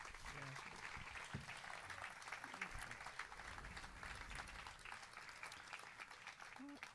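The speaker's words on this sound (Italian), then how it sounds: "Un applauso per Mario." An audience at a jazz festival applauds steadily throughout, a dense wash of clapping heard from within the crowd, with a voice speaking over it at times.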